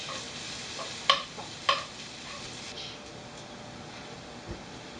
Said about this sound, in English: You have to first saute the shallots and the spinach together.